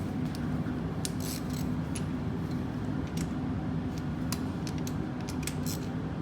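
Ratchet clicking in short bursts as 13mm bolts are checked on a Mercedes OM606 diesel pump, faint metallic ticks spread over a steady low workshop hum.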